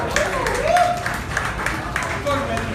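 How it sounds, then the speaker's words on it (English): Clapping from a crowd at a film success party, fairly loud and continuous, with voices speaking and calling out over the applause and a brief tonal sound rising now and then. "give a huge round of applause"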